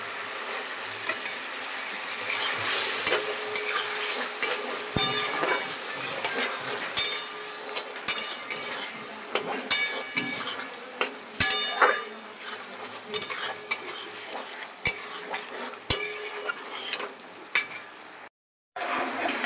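Spatula stirring boiled eggs in a bubbling egg curry and slitting them, repeated metallic clinks and scrapes against the pot at an uneven rhythm, close, with no one speaking.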